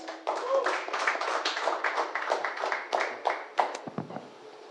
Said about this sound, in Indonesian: Silakan Bang Rizal, tepuk tangan buat Bang Rizal.